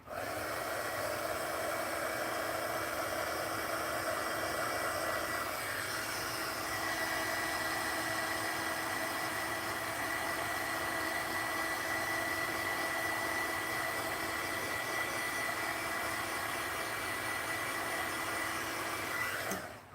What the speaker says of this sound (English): I'm going to use the little blow torch, no, the heat gun to dry this a bit.